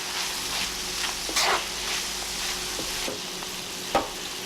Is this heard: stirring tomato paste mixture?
yes